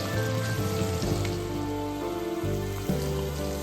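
Curry leaves, crushed garlic, red onions and lemongrass sizzle and crackle steadily in hot oil in a pan for a Sri Lankan breadfruit curry, with shifting pops throughout.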